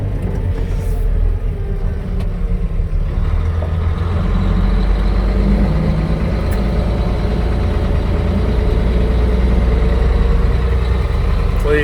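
A 7-ton MTVR military truck drives through a Salt Lake City neighborhood with a constant, loud, low engine drone. Road and wind noise ride over the engine, and no one speaks.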